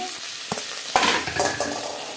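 Thinly sliced green chillies and curry leaves dropped into hot oil in a pan, giving a bright steady sizzle with a few sharp spatters and a spoon knock near the middle, close and fairly loud.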